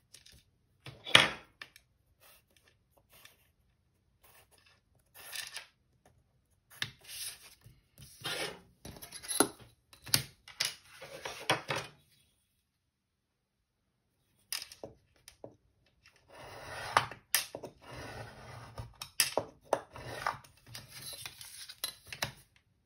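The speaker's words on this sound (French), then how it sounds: "Je prends donc ce rectangle là et je trace tout l'extérieur." Pencil tracing around the outside of a paper rectangle template for a card, heard as short scratchy rubbing strokes in separate bursts with quiet pauses between them, close and fairly soft.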